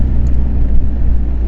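A motorcycle engine held at about 3,000 rpm, giving a steady, close, loud low rumble with a slight throb and no break, and no voices over it.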